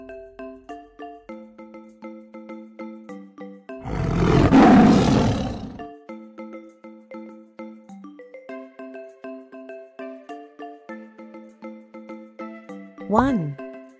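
A tiger gives one loud roar lasting about two seconds, set over a repeating chiming jingle that runs through the whole stretch, with a brief rising whoosh effect near the end.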